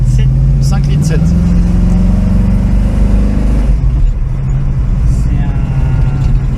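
A tuned 5.7-litre 351 Cleveland V8 car engine of about 320–330 horsepower revs and accelerates loudly close by, its steady roar rising in pitch before easing, with people talking over it throughout.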